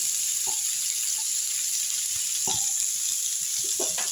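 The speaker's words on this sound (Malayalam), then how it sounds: "ഇതിനകത്തേക്ക് പാവക ഇപ്പം അത് നന്നായിട്ട് ചൂടായിട്ടുണ്ട് പാവയ്ക്ക് ഇട്ട് കൊടുക്കാം" Bitter gourd sizzles in hot oil in a pan with a constant, even hiss and a few short sharp crackles and pops scattered through it. No talk is heard.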